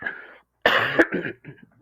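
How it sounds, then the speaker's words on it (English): A person coughs a few times up close, harsh throaty bursts with a bit of throat clearing, separated by short pauses. "I have some cough."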